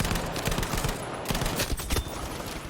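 Rapid bursts of LMG fire in a Battlefield video game, sharp repeated shots in quick volleys with a few pauses, loud and close throughout.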